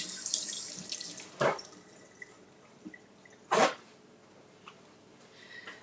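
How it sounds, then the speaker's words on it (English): A romaine lettuce leaf is rinsed under a kitchen tap, with soft running water, faint drips and a couple of louder splashy bursts nearby. "Let me rinse this off."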